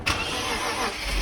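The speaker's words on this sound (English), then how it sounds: "Alright, this is first crank." A BMW engine cranks briefly and catches, starting with a quick burst that settles into a steady running note, close and fairly loud, with no talking.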